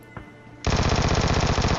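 Loud automatic gunfire in PUBG Mobile: a faint shot first, then a sustained rapid burst of evenly spaced rounds close by, with no talking.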